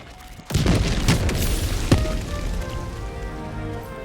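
A single heavy boom erupts as a Terminid hive structure blows apart in Helldivers 2, followed by a rain of crackling debris and a second sharp impact that settle into a lingering rumble.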